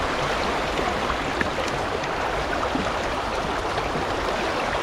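River water rushes steadily and fast through a gold sluice, a dense, even wash of noise close by with no pauses and no voices.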